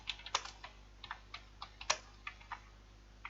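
Keys on a computer keyboard are struck in a quick, uneven run of crisp clicks, close and fairly quiet, with a couple of harder taps standing out and no voices.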